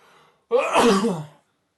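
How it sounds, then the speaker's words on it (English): A single sharp sneeze, loud and close, bursting out after a quiet moment. "I'm gonna sneeze."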